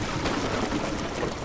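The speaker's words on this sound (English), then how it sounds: "Drain all that water." Water drains and pours steadily in the drain-cleaning game DrainSim, a continuous close rushing trickle with no talk over it.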